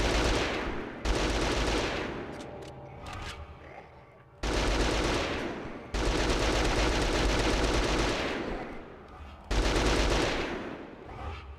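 An Uzi 9mm submachine gun fires in a GameCube video game, sounding as long loud rapid bursts of automatic gunfire separated by brief pauses.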